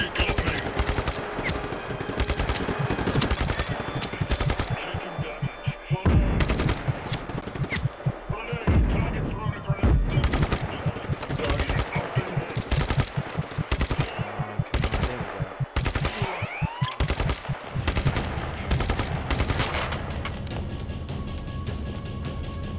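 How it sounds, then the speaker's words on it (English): Machine-gun fire rattles in long, loud bursts through a Just Cause 3 battle, with short gaps between volleys and occasional voices underneath. "Hey, yeah, that's a gun."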